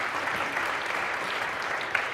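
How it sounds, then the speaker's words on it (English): An audience claps for a speaker coming up at an economic summit on quality jobs, a brief, steady burst of dense applause with no talk over it. "Let's give him a big round of applause."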